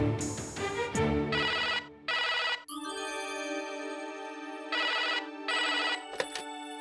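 A telephone ringtone plays close and clear as a call rings out, with repeated electronic tonal bursts separated by short pauses and no talking.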